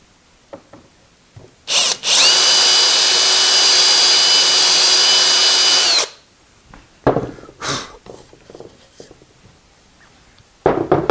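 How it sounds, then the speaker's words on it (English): A power drill whines steadily for about four seconds while boring out a hole in a Wimshurst machine part, followed by scattered knocks and scraping handling sounds. "still going to have to drill it out a little bit"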